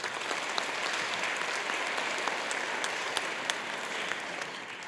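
Steady, dense applause from a middle school spring band concert audience fills the whole stretch, an even crowd roar of many hands with a few sharper claps standing out.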